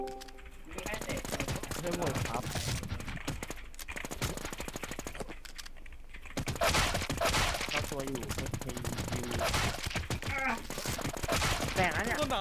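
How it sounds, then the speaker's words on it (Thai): Rapid bursts of gunfire in a shooting video game, dense automatic fire that stops and restarts, mixed with game sound and talking voices. "ยิงจนหมด"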